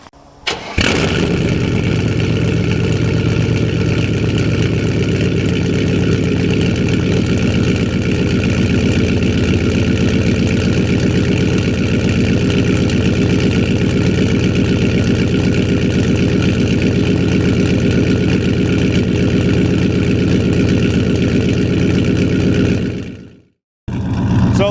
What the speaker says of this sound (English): I'll give you guys a quick exhaust startup